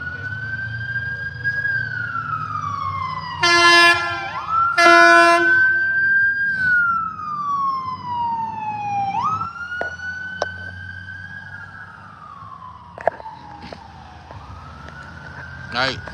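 Wailing ambulance and police sirens sweep up and down, rising and falling in pitch, with a couple of sharp horn blasts and a steady rumble of traffic beneath.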